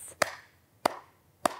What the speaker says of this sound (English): Can you clap your hands like this?